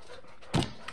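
A dog lets out a short, close whimpering burst with faint panting breaths around it, in an otherwise quiet indoor space.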